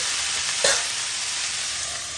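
Tomato chutney with green chillies is stirred in oil in a hot pan, producing a loud, steady frying sizzle with a single short scrape of the spoon near the start, and no speech.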